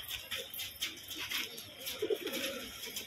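Roller pigeons in a loft coo softly in low, throaty bursts, with light rustling and faint chirps around them and no speech.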